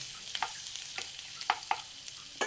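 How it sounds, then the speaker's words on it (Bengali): Butter with chopped ginger is stirred in a frying pan, a soft sizzle running under a few light scrapes and taps of the spoon against the pan. No voices. "আবার নাড়ব"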